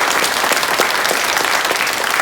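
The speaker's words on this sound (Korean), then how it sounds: "여러분 잘 다녀오라고 뜨겁게 한번 박수로." A Sunday church congregation gives warm, sustained applause sending off a young member leaving for army service, a dense even clapping that fills the whole moment without pause.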